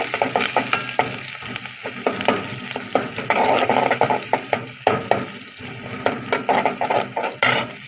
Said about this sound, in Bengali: আলুগুলিও দিয়ে দিয়ে একবার ভাজা হয়ে যায়